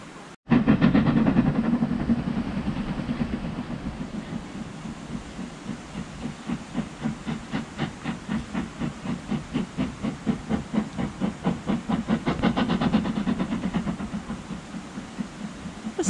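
The Jacobite steam train chugs slowly across the Glenfinnan Viaduct at a steady pace, rhythmic exhaust puffs pulsing over a continuous hiss of steam, loud and fairly close.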